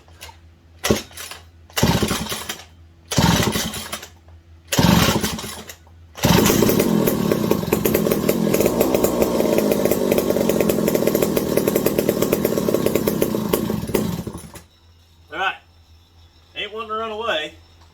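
A McCulloch 740 chainsaw, fitted with a swapped carburetor and repaired spark, fires in several short bursts, then runs and revs loudly for about eight seconds before cutting out. Brief speech follows.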